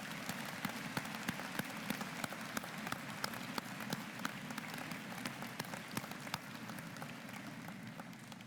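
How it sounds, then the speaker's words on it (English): Audience applause for parents at a high school graduation ceremony, sustained clapping from a large crowd with distinct sharp individual claps standing out, steady and continuous throughout. "Please give them a round of applause,"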